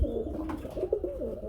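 Black American fantail pigeon cooing close by, a few soft rolling coos repeated over a steady low murmur with no talk.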